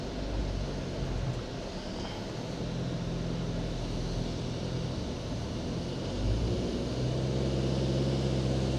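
Jetour T2 drivetrain laboring under load, a steady low rumbling drone with a broad whine, close and continuous throughout, swelling slightly near the end as the gearbox strains.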